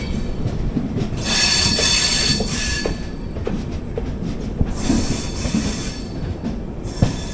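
The Porbandar Express rolls toward Shoranur Junction, heard from aboard an AC 3-tier coach as a continuous rumble of wheels on rail with repeated squealing bursts and occasional clicks, loud and steady with no talk.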